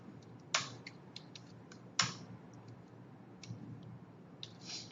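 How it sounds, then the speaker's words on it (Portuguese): Light keystrokes tap on a computer keyboard, with two sharper, louder presses standing out among softer scattered clicks, quiet and close. "Vou dando Enter e vou preenchendo."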